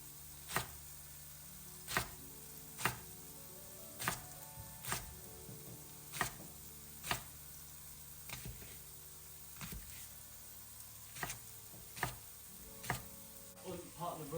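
A knife slices leek on a chopping board, producing a dozen sharp, evenly spaced taps about a second apart, close and crisp over a faint background hum.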